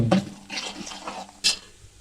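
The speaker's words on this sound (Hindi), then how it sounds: "तो थोड़ा सा पानी शामिल करेंगे।" Water splashes and trickles into a pot of chicken mandi in a few uneven pours, with soft sloshing and a brief louder splash near the end.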